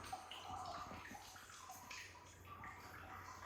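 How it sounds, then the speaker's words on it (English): Water streams at low flow into a 100-gallon (380 L) aquarium that holds only a shallow layer so far, giving a faint continuous splashing and gurgling with no talking. "the water has been running for a little over an hour"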